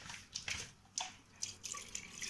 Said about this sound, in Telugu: కొద్ది వాటర్ పోసుకోవాలి.